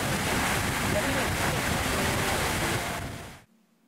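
The water fountain at the Merlion statue in Singapore pours with a loud, steady rushing wash of broadband noise that cuts off abruptly near the end, with a voice faintly mixed in.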